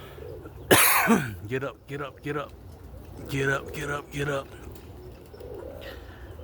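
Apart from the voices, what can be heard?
roller pigeon hens cooing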